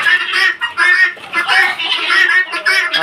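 Desi and Sonali chickens clucking close by, loud repeated bursts of clucks and squawks in an uneven rhythm from several birds.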